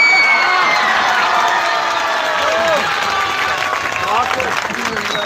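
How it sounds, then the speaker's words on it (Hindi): Loud audience applause and cheering at a poetry recitation, a thick wash of clapping mixed with whoops and crowd noise under a raised speaking voice. "अगली लाइन पर और जोरदार तालियां हैं।"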